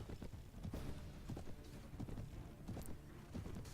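Horse hooves galloping in the video game Mount and Blade Warband, a quick, irregular run of thudding clip-clops, quiet and muffled among faint game background noise.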